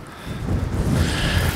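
Strong, gusty wind in the Arctic north, roughly 14 to 15 meters per second with gusts near 20, buffets the microphone as a steady low roar that grows louder partway through, with no voices.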